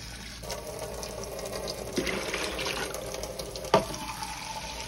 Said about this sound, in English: All you do, you fill it up to the line that say max